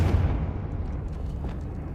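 A Confringo spell blast from Hogwarts Legacy booms with a deep, loud explosive rumble that fades over two seconds, with faint crackles trailing behind.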